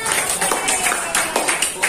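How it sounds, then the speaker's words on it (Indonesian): Audience applause in an Indonesian classroom session, a short burst of scattered hand clapping with rhythmic peaks, mixed with a voice. "Oke, baik, tepuk tangan."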